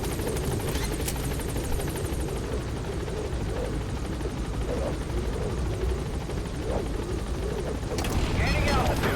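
A helicopter climbs in Metal Gear Solid V, its loud, steady rotor and engine roar filling the whole stretch, with a brighter rushing surge near the end.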